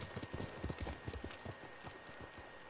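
Horse hooves clip-clop in a quick, steady rhythm in the Ghost of Tsushima video game, close and fairly loud over a soft ambient background with no talking.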